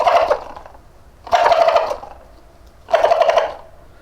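A Primos turkey gobble call worked by hand imitates a gobbling tom in three loud, rattling bursts spaced evenly apart, each trailing into quiet.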